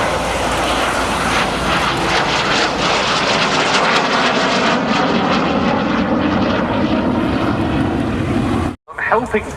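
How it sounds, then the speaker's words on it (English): Boeing B-17G bomber flying past at the Cosford airshow, its piston engines giving a loud sustained droning roar that holds steady before cutting off sharply near the end, with a commentator talking over it. "Bomber Command used B-17Gs like this one for radio countermeasures"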